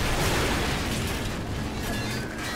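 A dense, roaring blast fills the whole clip in the shooter game Call of Duty 4: Modern Warfare, loud and sustained with a heavy low rumble that tapers slightly toward the end, with no voices.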